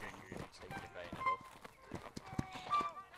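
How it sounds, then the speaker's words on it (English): Hooves of a ridden horse in the video game Hold Fast clop in an uneven rhythm beneath chatter and game sounds, the clip-clop fairly faint and mixed with voices. "there's a dude on a horse."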